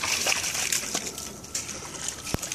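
A dog splashes through water outdoors near a log, with irregular sloshes, trickles and splatters close by, and one sharp splash near the end.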